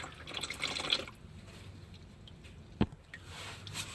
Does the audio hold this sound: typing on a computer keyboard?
no